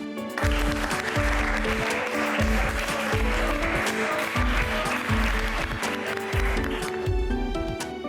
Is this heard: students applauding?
yes